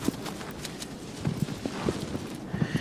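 A horse in Shadow of the Colossus, game audio of hooves drumming in a quick, uneven rhythm, moderately close over a soft background hiss, with no talking.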